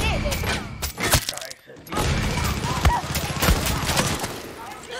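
Pistol shots in Far Cry 6, repeated sharp cracks fired in quick uneven succession over a dense, noisy game backdrop, loud and close, with a brief lull partway through.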